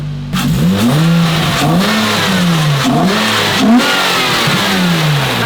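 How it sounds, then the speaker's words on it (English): A Nissan Maxima's engine revs repeatedly on a first drive, its intake rising and falling in loud, close surges over a steady engine drone, with no talking. "That intake sound is brutal."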